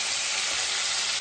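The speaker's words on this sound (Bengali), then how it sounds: "এবার এক এক করে চিকেনের পিসগুলো আমি দিয়ে দিচ্ছি। ওটা একটু ভেজে নেবো ভালো করে" Chicken pieces fry in hot oil for a simple chicken kosha, giving a steady, dense sizzle that holds evenly through the short stretch with no talk.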